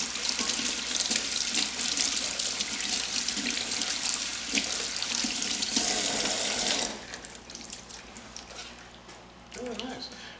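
Cold tap water running steadily into a sink while large goose livers are rinsed in a kitchen, a loud continuous splashing rush that stops abruptly partway, with someone talking.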